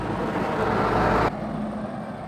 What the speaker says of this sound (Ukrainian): Перепрошую за шум, великі машини їздять